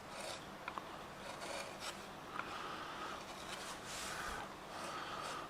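Carving gouge working a walnut wood ornament, a continuous close scraping and rasping of the blade through the wood with small clicks, quiet and unbroken throughout.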